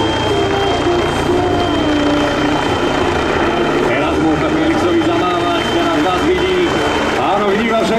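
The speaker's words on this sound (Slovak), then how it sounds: "Vrtuľník umožňuje letovú akrobáciu v rozsahu" A helicopter performs aerobatic manoeuvres at the Slovak International Air Fest in Malacky, its rotor drone loud and continuous throughout under an announcer's steady commentary.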